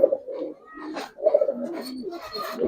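A silver Giribaz pigeon lets out a few soft, low coos in short bursts close by as it is let go, with someone speaking intermittently.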